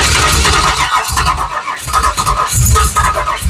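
A big block engine in an '83 Ford Mustang GT Foxbody cranks over without firing, fuel pump off, the starter churning in loud, rhythmic, uneven pulses close up.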